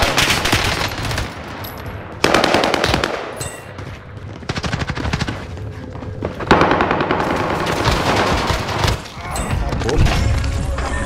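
Sten submachine gun in Call of Duty Warzone firing long, loud sustained automatic bursts with brief pauses between them, dense and close, mixed with battle noise and some talking.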